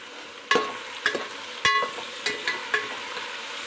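Vegetables and tomato fry in a pan while a spoon stirs them, giving a soft sizzle broken by six or seven distinct scraping clacks at uneven intervals, close and fairly clear with no talking.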